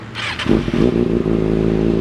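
A 2019 Kawasaki ZX6R sport bike with a titanium slip-on exhaust, heard up close as a sharp rev that rises and then settles into a loud, steady idle rumble, with no voices.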